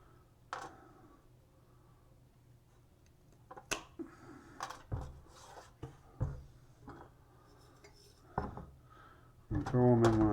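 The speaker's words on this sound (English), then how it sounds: "And then I'll cut them into smaller pieces." Intermittent snips and clicks of cutters removing gold-bearing components from circuit boards, irregular and close, with handling noises and a louder rattling burst at the end.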